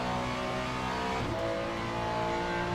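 Ferrari 296 GT3 engine in Le Mans Ultimate, a loud close-up snarl under sustained throttle with a brief dip and shift near the middle before pulling hard again, no talk over it.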